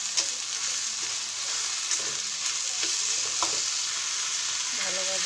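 Onions frying in a pan with salt and turmeric, a steady broad sizzle running throughout with occasional stirring clicks and scrapes, close and continuous.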